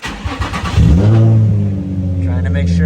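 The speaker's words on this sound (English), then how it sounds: "I'm gonna go ahead and idle the car again." A Nissan 350z engine with a coolant leak rumbles loudly up close, a sharp rev building into a steady, strong idle with a deep hum that holds for the rest of the moment.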